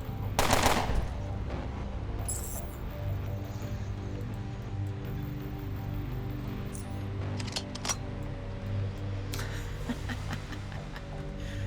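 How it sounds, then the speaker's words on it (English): Gunfire in the computer role-playing game Underrail: a loud burst of shots at the start, then a steady low hum with scattered sharper cracks and clicks through the rest. "Let's move up a little bit and gun him down."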